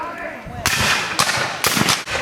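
Sharp bursts of gunfire from a Civil War reenactment battle crack out three or four times, loud and close, between stretches of quieter outdoor noise.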